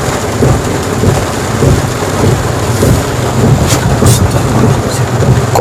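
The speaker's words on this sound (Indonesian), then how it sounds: "Hujan pula." Steady, loud rain pours with rumbling thunder, a dense continuous wash of sound that fills the scene throughout.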